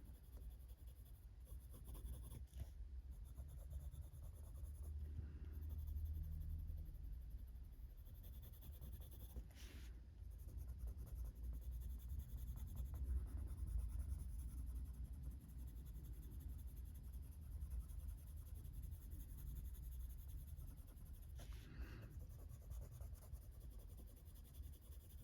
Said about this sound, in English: I'm gonna deepen up some of the edges with this pencil